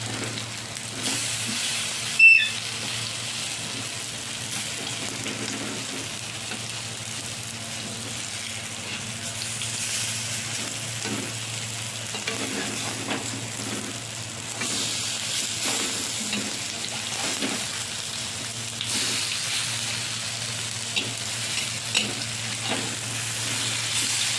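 Prawn-head fritters fry in a pan of oil, a soft, steady sizzle running throughout with a brief sharp clink early on and faint stirring sounds.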